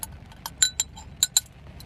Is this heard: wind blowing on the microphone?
no